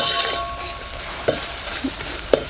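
Spice masala sautéing in a pan for Rajasthani dal, a steady broadband sizzle with a few soft scraping stirs of a spoon, close and fairly loud, no voices.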